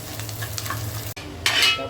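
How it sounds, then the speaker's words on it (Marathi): Edible gum (dink) boils and sizzles in a pan on a lowered flame, a dense, close crackle that cuts out for a moment and then returns louder in a bright burst of frying. "असा डिंक चांगला उकळला पाहिजे"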